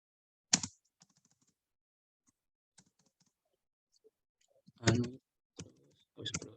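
Keys on a computer keyboard are tapped in sparse, separate clicks while a formula is entered, with short bursts of a few strokes and long quiet gaps between them, fairly close and soft.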